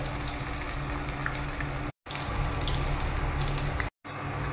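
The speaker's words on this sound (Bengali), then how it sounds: "কোপ্তাগুলো আমি এইভাবে গোল গোল করে ভেজে নিচ্ছি তেলে" Soybean koftas bound with cornflour fry in hot oil, giving a continuous bubbling sizzle at moderate level that cuts out twice for a moment.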